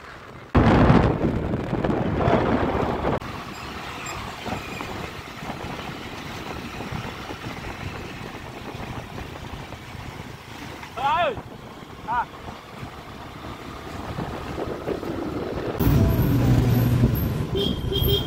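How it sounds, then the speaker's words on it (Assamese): Riding a scooter along a village road, with steady loud wind rushing and buffeting the microphone throughout and people talking over it at times. "তাৰ লগতে স্কুটিত গৈছোঁ আৰু বতাহ খাই খাই"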